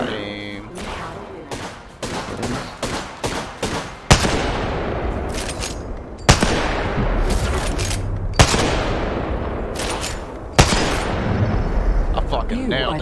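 Kraber sniper rifle in the video game Apex Legends fires heavy, booming shots about every two seconds, four loud blasts standing out over lighter gunfire and a steady battle din, with players talking throughout.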